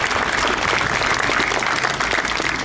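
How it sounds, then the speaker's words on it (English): Loud, dense audience applause fills a school's 75th anniversary celebration, steady clapping from a crowd sustained throughout without a break. "Let's give her a round of applause."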